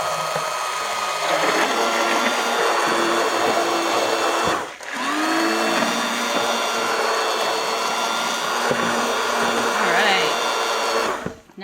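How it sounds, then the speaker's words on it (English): A handheld electric mixer whirs steadily while blending a matcha gel masque. The motor sound stays loud and continuous throughout, with one brief dip partway through and another near the end. "Now I'm going to go ahead and take my mixer and just mix that right up."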